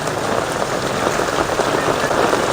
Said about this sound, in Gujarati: વાહ વાહ વાહ જોરદાર વરસાદ સાથે ભાઈ